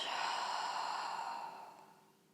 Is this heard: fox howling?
no